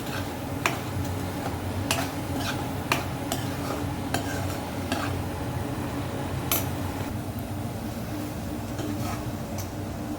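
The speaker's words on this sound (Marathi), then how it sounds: "असं हलक्या हाताने सगळे पनीर मिक्स करून घेऊया" Quiet, gentle stirring of paneer into curry in a pan, with light metal clicks and taps from a utensil at irregular intervals over a low simmering hum.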